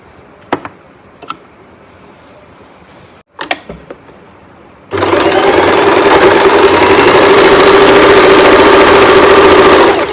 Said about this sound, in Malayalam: പതുക്കെ തയ്ച്ചാൽ മതി, ഒത്തിരി സ്പീഡിൽ ചവിട്ടണ്ട.